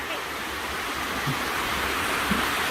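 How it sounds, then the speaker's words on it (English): Constant roaring wash of a waterfall at Treasure Falls, a dense, even hiss of falling water heard close and loud throughout. "We're at Treasure Falls. The waterfall goes up there."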